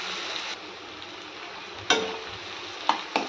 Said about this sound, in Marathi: आता आपण ही आलं लसणाची पेस्ट टाकू. हे पण आपल्याला छान अशी मिक्स करून छान परतून घ्यायची.